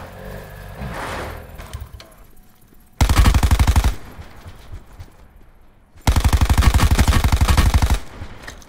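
Rapid automatic gunfire in a video game shooter comes in two loud sustained bursts, each about three seconds long, separated by quieter background game noise.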